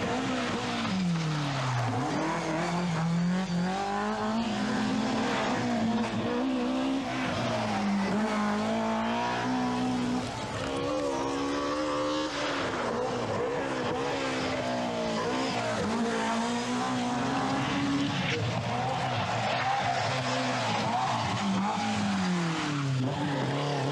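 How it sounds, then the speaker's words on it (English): A rally car is driven hard on a 1988 British Open Rally stage, its engine revving and changing pitch continuously with tyre squeal and skidding, loud and close throughout. "Just watch this for a breathtaking display of forceful driving."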